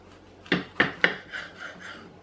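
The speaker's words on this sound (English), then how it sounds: "The ceramic blade cuts through the tomato very easily." A Myvit ceramic knife slices through a tomato with three crisp, close cuts about a quarter-second apart, followed by several softer, drawn-out strokes as the blade finishes the slice.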